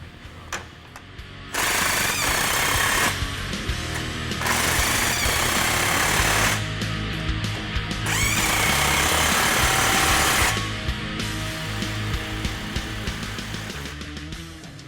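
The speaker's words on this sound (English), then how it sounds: "We're going to tighten all the clamps with a 15mm socket" Pneumatic impact wrench bursts tightening the clamps of a stainless MagnaFlow cat-back exhaust on a Jeep Wrangler with a 15mm socket, loud repeated rattling runs of several seconds each with short pauses between, no talking.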